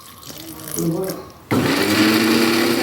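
A kitchen mixer grinds cumin, ginger and water into a paste, its motor starting up with a steady, loud whirring drone that continues after some quieter handling sounds.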